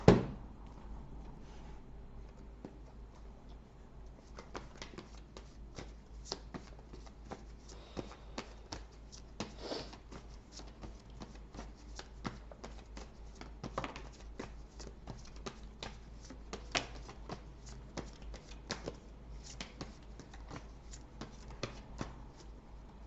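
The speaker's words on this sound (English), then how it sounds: "Okay, let's get some tarot cards." Tarot cards being shuffled and handled close up, with a quiet, steady run of soft riffling, flicking and tapping clicks over a low background hum and no talk.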